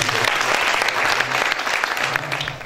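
A crowd applauds at a 2015 barsi celebration honoring Ustad Bahadur Singh, continuous dense clapping close and loud throughout, with a low hum beneath it.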